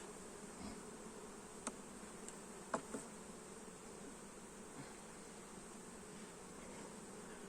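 Honeybees hum steadily over honeycomb frames during a honey harvest, a faint, even buzz that holds for several seconds, broken by a couple of soft clicks and knocks.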